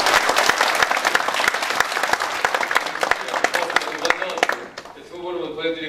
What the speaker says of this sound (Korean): 다시 한번 좀 큰 박수 좀 보내주시죠.